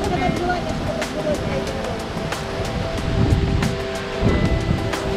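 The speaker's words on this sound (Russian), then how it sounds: "Да, конечно же, море." Sea surf at a beach in Binh Thuan province, Vietnam, a continuous wash of waves with wind noise, rising in two swells, with people talking nearby.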